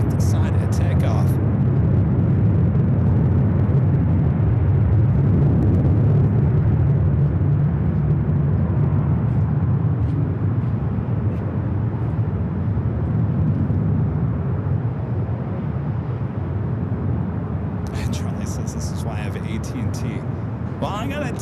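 A Lufthansa jet airliner roars on takeoff at LAX, a loud, sustained low rumble that slowly fades as it departs, with brief higher crackles at the start and end.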